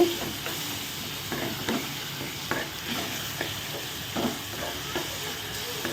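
Tomatoes cooking down in a pan for a dried anchovy (nethili karuvadu) curry, giving a steady close sizzle and bubbling with repeated soft stirring scrapes throughout.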